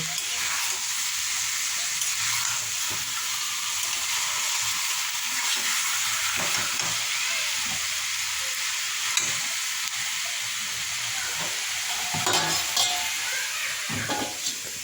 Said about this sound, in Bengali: আবারও আমি কিছুক্ষণ ঢাকা ছাড়াই ভালো করে কষিয়ে নেব।